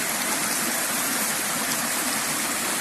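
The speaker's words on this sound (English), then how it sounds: "We are very close towards the waterfall." A waterfall roars from just ahead on a monsoon forest trail in Goa. The rushing water makes a steady, full broadband wash with no gaps, heard alone with no voices.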